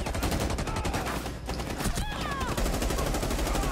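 Rapid bursts of video game gunfire during a firefight at a barricade, dense repeated shots filling the stretch with a short lull midway, plus a few brief whistling effects.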